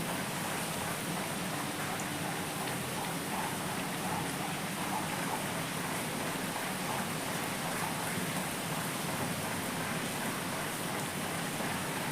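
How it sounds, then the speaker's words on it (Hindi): Heavy monsoon-season rain pours down steadily, a dense, continuous hiss of drops drumming on surfaces throughout. "वाओ, बारिश बढ़ गई।"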